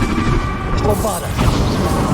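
A Bombarda spell explodes in Hogwarts Legacy with a heavy, booming blast and crackling debris, amid other loud spell effects and combat noise. A voice is heard during the fight.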